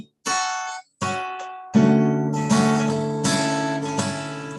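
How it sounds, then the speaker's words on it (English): Major seventh chords played on a guitar, several separate chords sounded one after another, each ringing clearly and close, with the later ones sustaining and overlapping into a held, resonant tone. "a certain kind of chord called the major seventh chord, which sounds like this"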